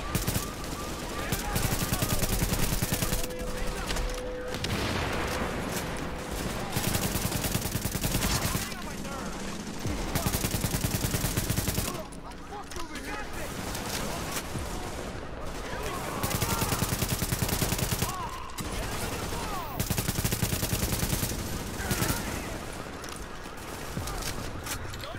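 Dense, loud automatic gunfire fills nearly the whole stretch in Tom Clancy's The Division, rattling in long bursts with brief gaps between them.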